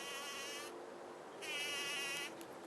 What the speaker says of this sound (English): so the bumblebees can enjoy them.